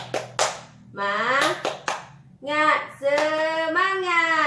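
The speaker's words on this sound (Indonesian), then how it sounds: "Kita tepuk semangat dulu ya ibu-ibu ya." A group of women at a community meeting clap a short rhythmic pattern in sharp, separate bursts, joining in with a loud sung chant that carries over and between the claps.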